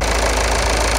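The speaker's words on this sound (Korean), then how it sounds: "역시 디젤 엔진임을 숨길 수 없는 그런 소리를 토해내고 있습니다" A Peugeot 3008 GT diesel engine idles loudly and steadily, a close, constant rumble with a knocking diesel clatter and no voices over it.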